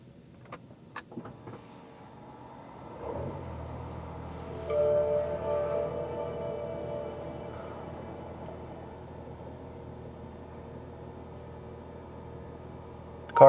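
A brown 2012 Fisker Karma electric car powers on with a soft click, then a faint, steady electric hum that swells slightly and holds with no voices.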